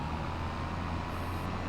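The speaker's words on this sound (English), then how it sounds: "I am going to bring this tractor" A tractor engine in Farming Simulator 25 on the Judith Plains Montana map drones steadily and low, a continuous rumbling hum that stays even and fairly quiet throughout with no talk.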